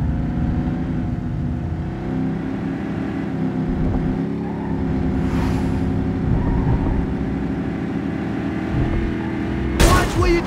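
A car engine in The Godfather II video game hums and revs steadily with a low, tonal drone, shifting pitch as it accelerates, ending in a sharp burst near the close.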